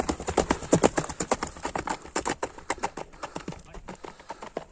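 A grey horse's hooves clip-clop in a steady, rapid rhythm, close and distinct, continuing evenly throughout with faint background noise.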